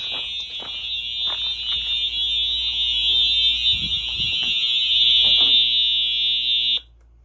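A shrill electronic fire alarm from a 1990s FCI fire alarm system sounds continuously and loudly, a steady high-pitched tone with faint clicks and thumps underneath, cutting off abruptly at the end.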